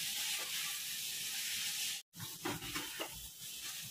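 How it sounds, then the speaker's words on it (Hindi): Mixed vegetables stir-fried on a high flame for Indian-style pasta hiss and sizzle steadily up close, with a brief cut midway and then stirring scrapes over continued frying. "इन सब्जियों को भूनते हुए करीब 8 मिनट हो चुके हैं।"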